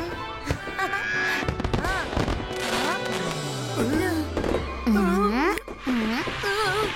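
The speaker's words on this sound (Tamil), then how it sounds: "பட்டாசு ரொம்ப கவனமா பார்த்து வெடிக்கணும்" Diwali firecrackers and a rocket going off amid children's chatter, with sharp bangs and crackles scattered throughout, a long descending whistle, and kids talking and shouting over the celebration.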